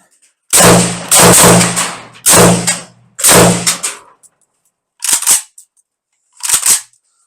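An AK rifle fires at close range after a magazine throw, with several loud sharp shots in quick clusters and short bursts, then a pause and a few more isolated shots.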